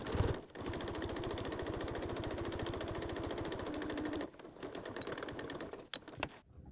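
A sewing machine stitches a fabric hot pot lid holder in a fast, steady mechanical rhythm, close by, pausing briefly before starting again in shorter runs.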